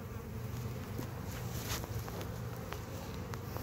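Honeybees buzz close around M frame feeders in a hive, a constant droning hum with occasional faint taps and rustles; no talking.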